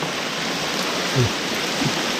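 Rain falls outdoors during an afternoon of mushroom gathering near a Thai temple: a steady, even hiss throughout, with a couple of faint low thumps partway through.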